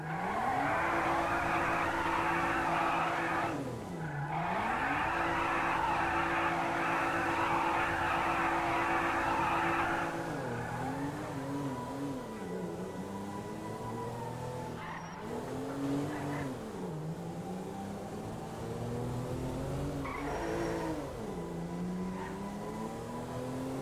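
A car racing and skidding in Grand Theft Auto V: a loud, high-revving engine with sustained tire squeals and pitch dips through gear changes and turns, continuous throughout.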